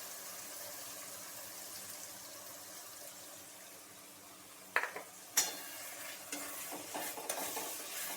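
Ground tomato paste dropped into sizzling spices for a Bengali chicken curry, a faint steady fry followed by two sharp splattering bursts and a run of scraping stirs in the pan, close by.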